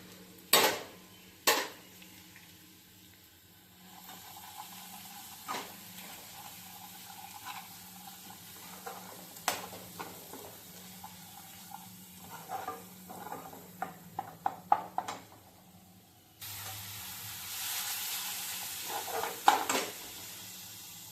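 Spices fried in oil for a village-style mutton curry, with metal clatter of a spoon against the pan, scattered taps and clinks, and a steadier hiss of sizzling swelling in the final seconds, fairly faint and close with no talk.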